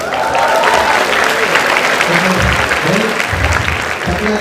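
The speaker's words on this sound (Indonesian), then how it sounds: "tepuk tangan sudah" Loud, sustained applause from a hall of university students meeting Anies Baswedan, thick continuous clapping throughout with a few low voices surfacing toward the end.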